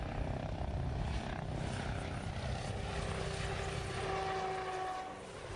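An RAH-66 Comanche military helicopter flies with a steady, loud rotor and engine roar that holds constant throughout, easing slightly near the end, with no voices.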